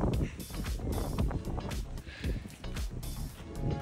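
Strong wind blows across a disc golf course, buffeting the microphone with a loud, continuous low roar that surges and dips in gusts.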